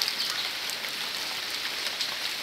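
November rain falling steadily on a yard of fruit trees such as mango and acerola, a dense, even hiss of drops that holds at moderate loudness throughout.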